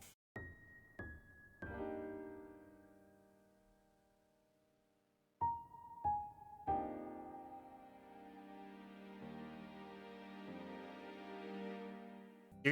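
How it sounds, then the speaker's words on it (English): A JRPG-style main theme opens with sustained piano chords, then a big rolled chord leads into a slowly building string swell that fades in gradually and rings on. There is no speech. "I have this big chord on the piano that just sort of rolls into quickly"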